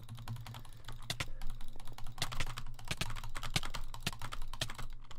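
Rapid butterfly clicking on a computer mouse while gaming, a dense, fast, continuous rattle of sharp clicks at close range that stays steady and fairly loud for several seconds, with no speech.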